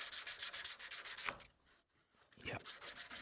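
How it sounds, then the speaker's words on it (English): A curved scraper has its burr removed, rubbed in quick rhythmic strokes of about eight per second, breaking off into a short pause before the rasping strokes resume, close and fairly quiet. "the last step of this is I'm just going to go and take this burr off"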